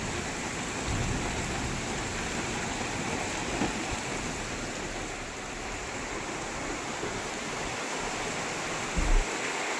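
Steady rain falls continuously in Pune, a dense even hiss with a few soft thuds, no voices.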